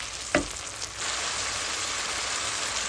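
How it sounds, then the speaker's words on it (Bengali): Spice paste for a hilsa fish curry fries in a pan with a steady, close sizzle and crackle, a brief stir or clatter near the start, then continuous loud frying alone. "তো আমি আমার মশলাটাকে অফ ক্যামেরায় 2-3 মিনিট ভালো করে কষাইয়ে নিচ্ছি"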